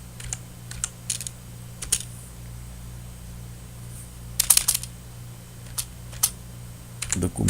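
Sparse keystrokes on a computer keyboard as a name is typed, short clicky taps in small bursts over a steady low fan hum, fairly quiet and close.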